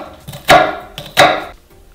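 A knife cutting onion on a cutting board for a pie filling: two firm, close chops about 0.7 seconds apart, each a crisp knock against the board, with no talk.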